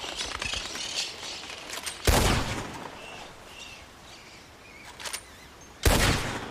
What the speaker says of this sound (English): My gunshot is a lot louder than I can yell.